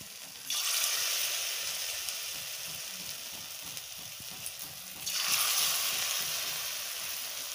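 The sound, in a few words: pakora of gondho pata leaves frying in oil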